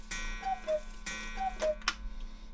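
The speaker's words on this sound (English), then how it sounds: "This is the sound. You know, wooden cuckoo, wooden dial, wooden hands." Steady, fairly faint ticking of a wooden cuckoo clock with wooden dial and hands and a pendulum, even beats continuing for a couple of seconds with a light background hum.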